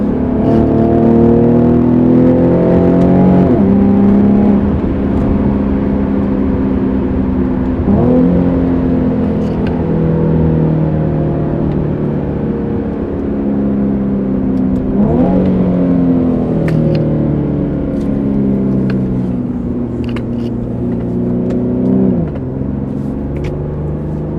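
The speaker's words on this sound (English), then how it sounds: "It does blip the throttle on downshifts with the paddles." A 2013 Infiniti G37x AWD engine drones loudly inside the cabin, its pitch climbing through the gears, with sharp throttle blips on paddle downshifts recurring several times.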